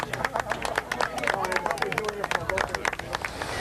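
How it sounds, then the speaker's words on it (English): A seaside crowd in St. Petersburg, Florida claps and cheers as the sun sets over the water, scattered hand claps ringing out over a murmur of voices and people talking nearby. "the sun drops below the water horizon, and people cheer the day's end"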